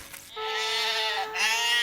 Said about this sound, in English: Suppose you're a sheep farmer and you have 100 sheep in your flock.